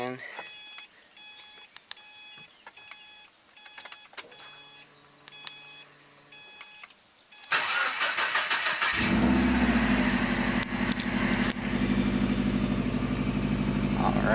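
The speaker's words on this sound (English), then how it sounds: "so car is started" A 2013 Subaru WRX chimes with repeated dashboard warning beeps, then the engine cranks and fires with a sudden loud roar, settling into a rough, loud idle.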